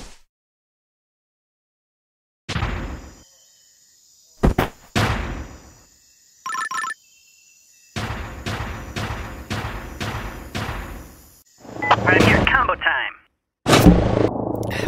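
Several loud booming blasts from a cannon in Henry Stickmin, separated by silences, with rumbling impacts and a rapid series of heavy thuds.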